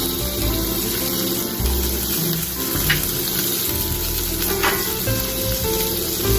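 Asparagus fries in hot oil in a home Japanese kitchen, giving a steady close sizzle with faint crackles and a few brief clinks. It runs alone and without a break.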